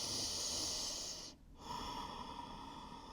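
A single deep inhale through the nose during a gentle floor yoga stretch, a soft airy rush that fades to a brief pause before a quieter exhale, close and faint.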